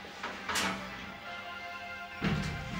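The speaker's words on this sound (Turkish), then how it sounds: "Kapıyı düzgün kapat yalnız." An office door is pushed shut in a radio drama scene, with two muffled thuds a couple of seconds apart over a steady room hum.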